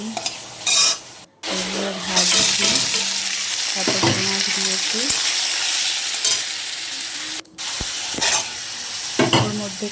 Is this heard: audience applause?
no